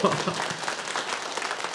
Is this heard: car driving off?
no